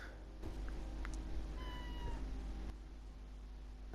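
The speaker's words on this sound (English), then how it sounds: "You might hear the cat." A cat in the video game Skyrim meows faintly over a steady low background rumble, a brief distant mew among a few soft clicks.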